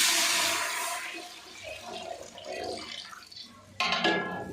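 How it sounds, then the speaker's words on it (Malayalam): Chicken stock and plain water poured into a pot of biryani rice, a splashing gush that tapers into trickles and drips, then a sharper splash near the end. "നമുക്ക് ഇതിനകത്ത് വെള്ളം ഒഴിച്ച് കൊടുക്കാം. ഈ ചിക്കൻ വെന്ത വെള്ളവും പച്ചവെള്ളം കൂടി ചേർക്കുകയാണ്."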